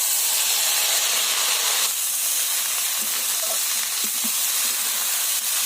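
Boiled, drained cabbage hits a pan of frying potatoes and peanuts, a loud dense hiss and sizzle that stays steady and close throughout, with faint stirring knocks and no talk.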